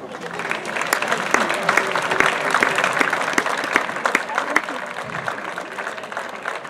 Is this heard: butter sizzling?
no